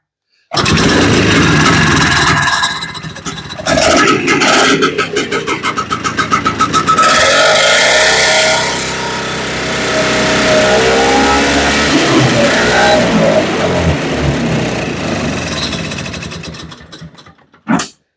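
A barn-find Boa Ski snowmobile engine runs rough and loud up close, revving and surging unevenly before sputtering and dying out at the end.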